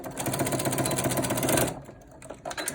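A sewing machine back tacks a seam on a cloth face mask, a dense steady mechanical whir of rapid needle strokes for about a second and a half, then stopping into quieter handling sounds.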